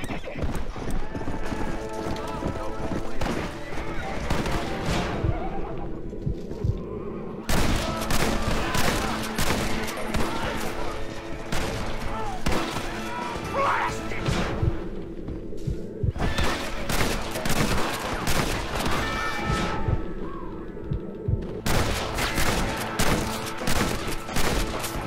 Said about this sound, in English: this time around I'm gonna use a repeater